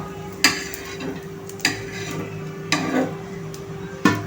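Fried potatoes are transferred from a pan onto a plate. A few sharp metal scrapes and clinks of a utensil against the pan land at irregular intervals over a steady low hum, close by.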